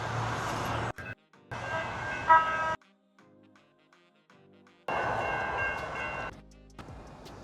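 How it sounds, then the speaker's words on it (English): An approaching train sounds at a railway crossing in two loud bursts of horn and crossing-bell noise separated by a near-silent gap, with rumbling underneath. "the bells are whistling. The train is coming."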